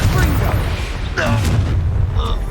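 A Confringo fire spell is cast in combat in Hogwarts Legacy, giving a loud, continuous booming blast with rumbling low end that fills the moment, overlaid by brief bursts and effects.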